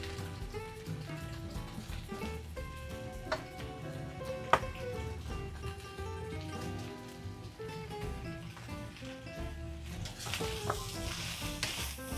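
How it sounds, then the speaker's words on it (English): Vegetables stir-frying in a pan give a steady, dense sizzle with occasional clinks from stirring, continuous and fairly loud throughout with no voices. "Stir that around, let it mix up real good."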